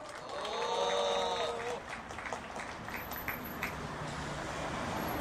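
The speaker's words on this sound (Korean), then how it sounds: "힘찬 박수로 맞아주시기 바랍니다" Applause welcoming a union chairman at an outdoor Korean labor rally rises faintly in the distance. It sits as a low, diffuse wash of clapping behind brief amplified voice and crowd noise.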